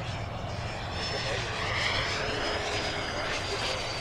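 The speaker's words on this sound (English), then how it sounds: "Just a fun, very smooth jet to fly." Banana Hobby HSD Super Viper RC jet making an inverted flying pass, a steady loud whooshing turbine roar with a faint high whine as it sweeps by.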